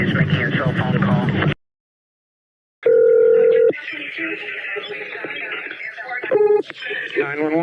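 Cell phone call tones: a burst of noisy chatter cuts to silence, then a loud steady tone, followed by softer mixed tones, brief beeps and a voice-like murmur.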